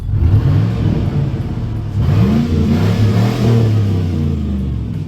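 A Chevrolet Silverado pickup truck engine revs up and down several times, a loud close rumble rising and falling in pitch.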